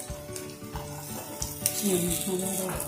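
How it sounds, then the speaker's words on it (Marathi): Coriander vadi (kothimbir vadi) pieces shallow frying in a little oil in a pan, giving a steady close sizzle with soft crackles and a louder burst of spattering near the end, with a voice faintly behind it. "थोड्या तेलावर छान भाजले जातात"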